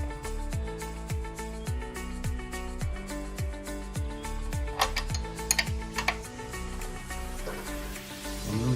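Valve cover bolts on a 2017 BMW M240i being loosened with a ratchet, a run of quick clicking ratchet strokes in short bursts, close and fairly quiet, with a few metallic clinks.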